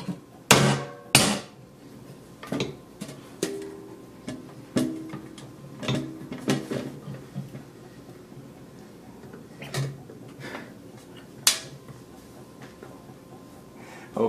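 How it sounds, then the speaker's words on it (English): A hammer strikes a metal can again and again to seal an iPhone 6s inside, sharp close blows at an irregular pace with quieter taps between and near silence otherwise. "we're going to actually make sure and secure this by doing this with a hammer"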